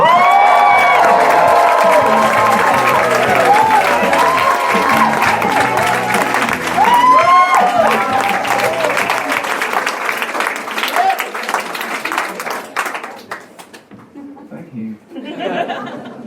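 A live comedy crowd of about 200 in East London claps, cheers and whoops to welcome a comedian to the stage. Loud, dense applause with scattered shouts and laughter is heard, tapering off near the end as a voice begins.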